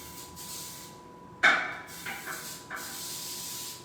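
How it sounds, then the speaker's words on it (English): A single sharp burst of cooking oil spray hisses onto a baking pan, followed by two shorter, fainter spritzes as the can runs out, over a quiet room hum. "What I'll do is I just take and spray it again really good."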